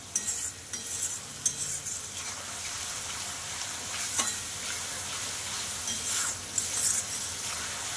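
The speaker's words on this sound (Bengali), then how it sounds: "নুন হলুদটা দিয়ে মশলাটা আমি ভালো করে একটু নাড়িয়ে চাড়িয়েই বেশিক্ষণ কষাবো না" A spoon stirs a masala seasoned with salt and turmeric in a hot pan, a close, steady sizzle with scraping strokes and occasional louder pops and clicks.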